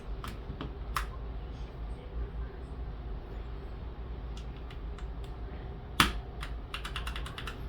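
Scattered clicks from a mechanical keyboard fitted with Holy Panda and Gateron Brown switches, an NZXT Function MiniTKL, sound as sparse single presses with a sharp louder strike midway and a quick cluster of taps at the end, all over a low background hiss.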